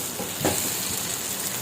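Meat for biryani braises in a pot with a steady hiss of sizzling, and a single brief stirring scrape stands out early, fairly quiet and close.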